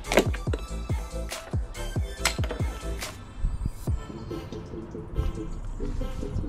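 Liquid glugging and dripping as coolant is poured into the engine of an Alfa Romeo Giulietta during EGR cooler replacement, with bubbly gurgles and splashes close by, tapering into a softer trickle.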